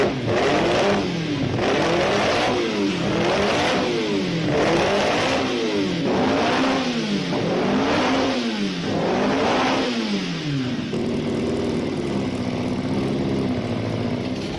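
A 2-litre V8 engine revs up and down in a repeated rhythmic cycle, loud and close, then settles into a rough steady idle.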